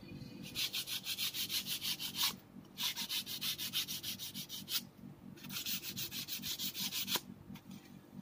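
Sandpaper rubs back and forth along the rough split edges of a cut PVC pipe in quick, even strokes, close and clear, pausing twice briefly before resuming the rhythmic scraping.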